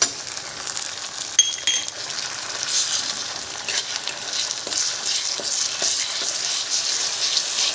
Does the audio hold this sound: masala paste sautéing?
yes